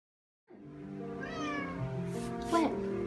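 A house cat meows at night, one long drawn-out harmonic meow rising and falling, then a shorter sharp meow near the end, close and fairly quiet, alone in a still room.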